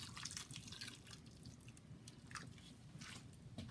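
Liquid is poured over fish in a pot for Jamaican-style steamed fish, a continuous wet splashing and dripping, close and fairly quiet, with no talk.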